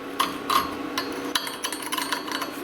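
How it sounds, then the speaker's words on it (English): A scribe is run along the edge of a flux core weld to chip the slag off, making a short burst of close, sharp scratching and ticking taps that are quick and irregular. "if you just scribe right along the edge, our little flux there will just pop right off."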